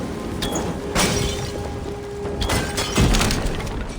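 An explosion in Assassin's Creed Valhalla bursts out as supplies are sabotaged, with shattering, crashing debris, followed by a second heavy blast near the end amid ongoing game noise.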